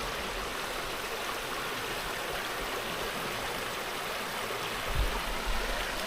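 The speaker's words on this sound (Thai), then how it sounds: "นี่นะครับน้ำตกนางนอนนะผม" Nang Non waterfall in deep forest in Yasothon, Thailand, gives a steady, broad rush of falling water. The roar stays even throughout, with a brief low thump near the end.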